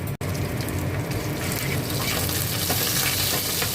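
Whole spices tempering in a little hot oil on a gas stove burner, a steady, close crackling sizzle that carries on unbroken, with no one talking.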